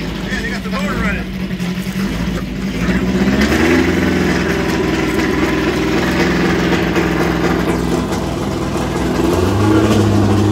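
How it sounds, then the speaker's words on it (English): A 1959 Volkswagen 15-window bus engine runs steadily and swells into revs, a loud close rumble with rising pitch near the end, while voices talk over it. "they got the motor running"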